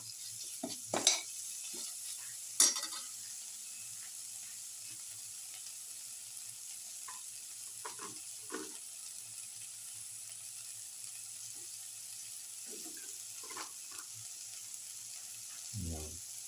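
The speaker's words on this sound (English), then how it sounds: "Saute mix." Garlic and spinach sauté in a pan with a steady soft sizzle, broken by scattered scraping stirs and a few louder clatters of the utensil against the pan.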